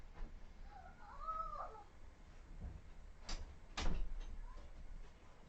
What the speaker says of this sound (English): I just heard another kitten outside, and now Kerwin's gonna go get it too.